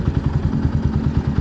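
A stock 2011 Yamaha Byson motorcycle engine with its original exhaust idles close by, a loud, steady, rapid low thumping pulse with slight mechanical clatter.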